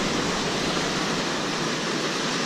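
Rushing creek water in the Collegiate Peaks Wilderness of Colorado, a loud, steady broadband roar of a swollen mountain stream heard up close, with no voices over it.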